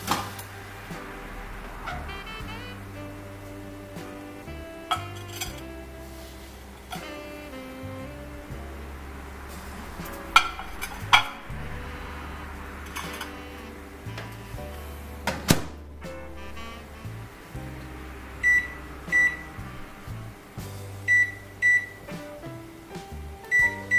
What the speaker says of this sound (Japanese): で今からねオーブン入れていきます